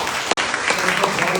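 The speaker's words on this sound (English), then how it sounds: "give a big round of applause for me" Audience at a women's book launch event in Ahmedabad breaks into steady, dense applause that carries loudly through the whole moment, with a brief cut near the start.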